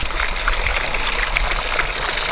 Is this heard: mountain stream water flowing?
yes